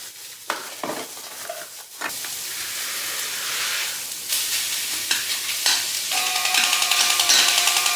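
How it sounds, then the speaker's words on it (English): Meat sizzles and hisses steadily in a hot pan, with scraping stir strokes breaking through a loud, close frying bed that swells toward the end. "I love cooking my meat first"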